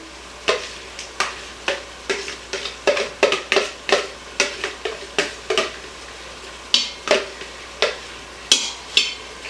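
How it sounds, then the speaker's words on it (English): Browned beef and bacon tumbled back into a hot pan for a beef bourguignon, a series of sharp scraping clatters of spoon against pan over a soft sizzle, close and fairly loud, arriving in irregular bursts. "you're going to add your meat and your bacon back to the pan"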